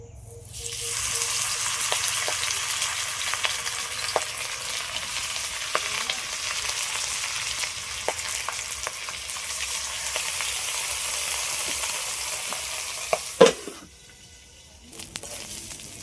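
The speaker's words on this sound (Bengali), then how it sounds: "কড়ার মধ্যে তেল দিয়েছি অল্প করে, এবার সব পাতুরিগুলো ভেজে নেব।" Cabbage patauri wrapped in bottle gourd leaves frying in a little oil in a kadai, giving a steady close crackling sizzle with occasional pops and utensil taps, then cutting off near the end, no speech.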